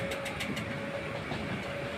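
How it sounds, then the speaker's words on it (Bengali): A train runs towards Namkhana past stations in steady rain, heard from inside as a low, continuous rumble with a faint rhythmic clatter and a thin steady whine, fairly quiet, with no voices. "পরপর স্টেশনগুলো পার হয়ে আমাদের ট্রেন ছুটে চলেছে নামখানা উদ্দেশ্যে"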